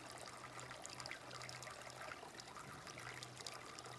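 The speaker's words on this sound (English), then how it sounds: "fill the old bladder up with some dirty water. And you got it working like a gravity filter here." A steady, close trickle of water running through a Sawyer Mini gravity filter fed from a bladder of dirty stream water at a backpacking camp, continuous and fairly quiet without pause.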